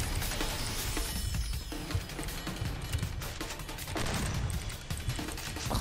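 Dense, continuous video game gunfire, overlapping bursts and shots that keep up loudly for several seconds with no pauses.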